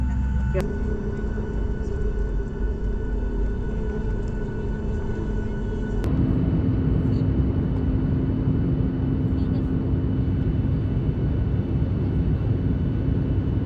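Steady cabin drone of an airliner in flight between Uttarakhand and Mumbai, a broad continuous roar with low hum that grows slightly louder partway through, filling the whole stretch without breaks.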